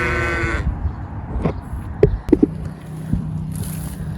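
Sheep on a farm in January, close to lambing, bleat in a long wavering call at the start, followed by scattered shuffling and knocks, then a quieter, fainter bleat.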